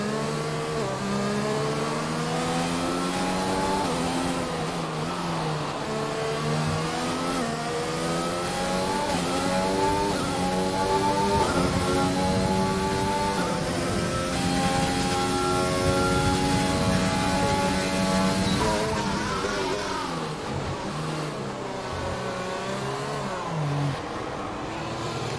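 A Racing Point race car engine howls steadily in a racing game on the Hanoi circuit, revving up and down through gear changes for the whole stretch, loud and close with no talk.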